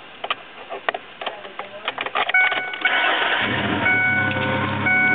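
A truck engine, fitted with an HHO system, cranks briefly and then catches, settling into a steady running drone; the start is close and loud after a few sparse clicks and handling noises.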